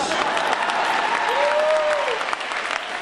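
An audience at a karate demonstration breaks into sustained applause after a joke, a full, even wash of clapping lasting a few seconds with a faint voice briefly audible over it.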